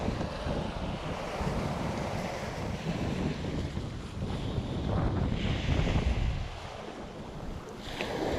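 Strong coastal wind buffets the microphone with a steady roar while waves wash on the shore beneath it, continuous and loud throughout.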